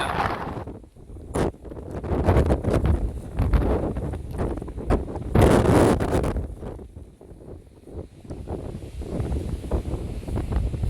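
Strong gusting wind buffets a wild camp at Blea Tarn during Storm Ashley, roaring and rumbling loudly against the microphone in surging blasts with brief lulls, no voices heard.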